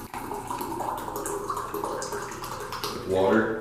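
Water running from a tap into a container for mixing a pre-workout powder, a steady wash that swells louder near the end as the vessel fills, with a person talking over it.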